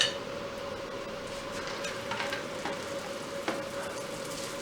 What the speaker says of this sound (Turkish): Evet arkadaşlar şimdiki yağımız kızdı. Bamyaları içine atıyoruz.